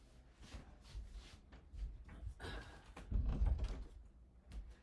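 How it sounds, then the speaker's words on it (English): A door pulled shut indoors: shuffling and handling noises build to a dull low thud, followed by a few lighter knocks, close by with no talking. "Let me close my fucking door real quick."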